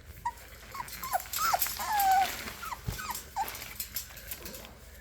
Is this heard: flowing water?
no